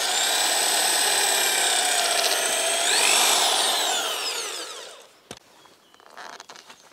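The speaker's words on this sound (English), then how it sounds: "now we're going to drill the securing holes for these" A high, whining power drill runs steadily for several seconds boring securing holes for pins in a swing set, rising in pitch, then winds down into quiet with a sharp click and light handling sounds.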